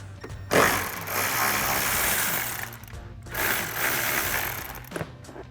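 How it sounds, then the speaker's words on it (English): A 13mm socket ratchet works an air box bolt loose on a Ford F-150, with two long runs of rapid clicking pawl ratchet strokes close up, separated by a short pause. "we'll grab a 13mm socket and pop this bolt out"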